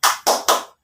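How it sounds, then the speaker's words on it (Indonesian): Three sharp hand claps from a teacher demonstrating a class spirit-clap rhythm, evenly spaced bursts close and loud with no talk over them. "Tepuk semangat."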